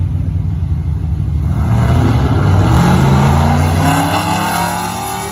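Slick-tire drag racing cars accelerate hard down the strip, a loud engine roar rising in pitch as they pull away, fading slightly at the end.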